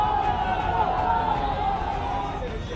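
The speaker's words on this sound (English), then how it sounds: "Kolkata streets choke with crowds." A protest march crowd fills the streets of Kolkata, producing a dense, steady wash of crowd noise and babble that holds at an even loudness throughout.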